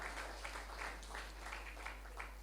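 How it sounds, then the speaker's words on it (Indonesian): A congregation at an Easter church service claps steadily, a soft, continuous patter of many hands heard from a distance with a low hum underneath and no talk. "Tepuk tangan untuk Tuhan kita."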